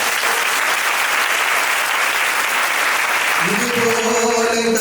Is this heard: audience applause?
yes